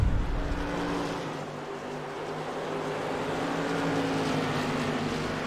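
Race car engines drone steadily in the eNASCAR Ignite Series sim racing game, one loud sustained roar with shifting pitch as cars run side by side and pass on track, no talk.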